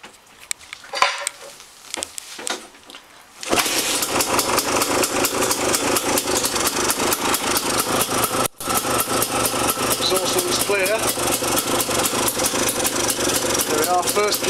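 Honda CRM two-stroke motorcycle engine kick-started on the first kick and idling, a sharp catch after some rustling, then a rapid loud steady putter with a brief dip midway, a voice talking briefly before the start.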